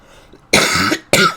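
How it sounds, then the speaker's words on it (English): Two loud, close coughs from one person, a longer harsh one followed by a shorter one, with near silence before them. "Jeez Louise, I'm so sorry about the coughing"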